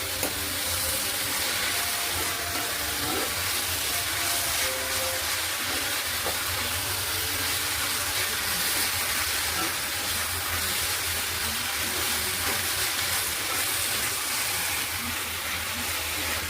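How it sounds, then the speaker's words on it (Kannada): Basale (Malabar spinach) greens frying in a pan, a steady, dense sizzle that holds evenly throughout with no voices. "ಮತ್ತು ಸೊಪ್ಪು ಬಾಡೋವರೆಗೂ ಫ್ರೈ ಮಾಡಿ."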